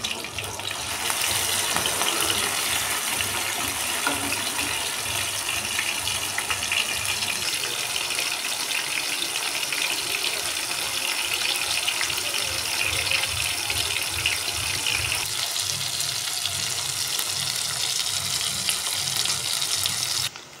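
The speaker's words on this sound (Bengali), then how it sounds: "তেল গরম হওয়ার পর আগে থেকে নুন হলুদ মাখিয়ে রাখা চিংড়ি মাছ কড়াইয়ে দিয়ে দেব" Salt-and-turmeric-coated prawns frying in hot mustard oil in a wok, a steady loud sizzle throughout with no talking.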